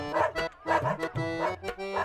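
Dogs bark repeatedly in a steady rhythm, loud and close, with a few yips mixed in and no voices.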